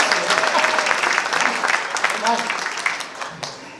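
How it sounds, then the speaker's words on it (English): An audience at a bluegrass concert applauds elder fiddlers, with dense clapping over the whole stretch and a few voices calling out through it. "Give our elders a round of applause."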